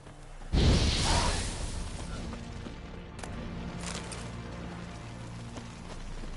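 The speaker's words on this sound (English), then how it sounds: "Now for a shot of Igni." The Igni fire sign cast in The Witcher, a single loud burst and whoosh near the start that decays into a roaring rumble, with no talk.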